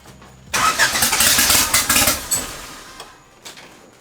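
A Honda D16 engine with a budget modification cranks and catches, then revs raggedly with uneven roughness before settling and fading toward idle, loud and close, no talking.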